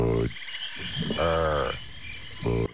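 Budweiser frogs croak in a swamp setting, three loud close croaks in sequence, each a deep harmonic call, over a faint insect hum.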